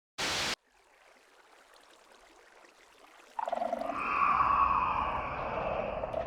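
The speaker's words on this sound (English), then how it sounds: "Water was already flowing loudly next to that sensor." Steady rushing water flows in a Minecraft world. A short sharp sound comes first, then a quiet hiss, and a louder continuous stream swells in and holds. No voices.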